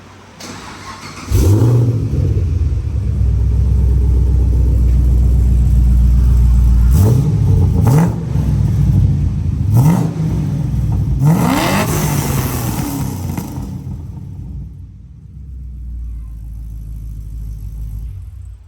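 A 2010 Camaro with an LS3 V8 and a new full exhaust cranks and fires at about 1.5 seconds, then settles into a loud, deep idle. Several sharp throttle blips rev it up and fall back before it drops to a quieter idle.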